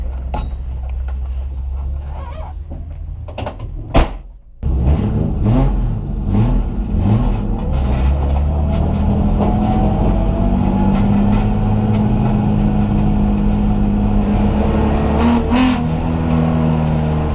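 A BMW E30 race car at a race start at Atlantic Motorsports Park idles briefly, then its engine roars loud and close, revving hard through rising gear pulls that continue steadily to the end.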